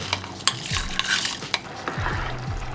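Minced garlic cooks in a saucepan while a utensil stirs and scrapes it, giving a close, clattering scrape under a light sizzle, with several sharp knocks against the pan and no voices.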